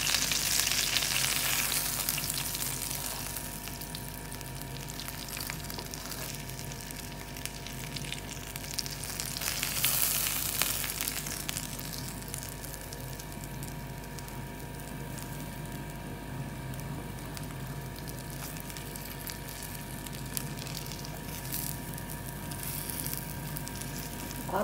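Cheesy potato chicken fillets sizzle steadily in a frying pan, a continuous dense crackle with a brief louder burst midway, no voices.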